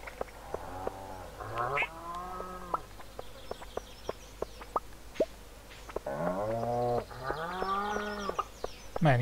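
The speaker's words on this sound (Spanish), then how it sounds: "Madre mía, las vacas." Cows lowing in the farming video game Stardew Valley, several loud drawn-out moos in two clusters with short game clicks and blips between them, close and clear.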